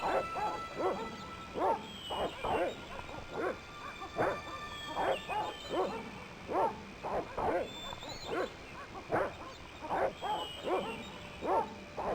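Dogs in the Broken Sword 1 adventure game bark in a steady series of loud yaps and bow-wows, repeating roughly every half second over a low background hum.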